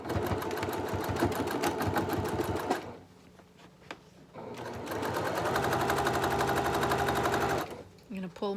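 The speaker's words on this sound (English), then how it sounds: "You want to sew as close as you can to the edge of the rectangle box without sewing the body panel" A sewing machine stitches a handbag lining with a steady, rapid mechanical whir in two long runs separated by a brief pause, while a voice speaks over it.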